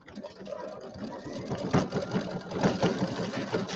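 A sewing machine stitches a quilted penguin mug rug in a steady, rapid mechanical chatter, close and continuous, with faint rhythmic knocking from the needle mechanism.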